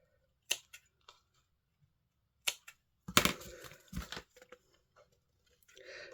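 Scissors snip spare twine trimmed from a die-cut card: a few sharp, isolated clicks early on, then a denser burst of crisp snipping and rustle, with a faint voice briefly near the end.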